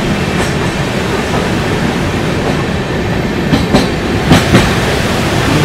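A train rumbling steadily across the Farakka bridge, a dense continuous roar of wheels and cars with a few sharper clanks and squeaks toward the end, close and loud with no voices.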